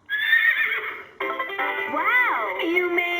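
Recorded horse neigh played by a LeapFrog Farm Animal Mash-Up toy: a bright whinny that breaks off briefly, then resumes with a wavering, descending squeal, loud and close, with no talking over it.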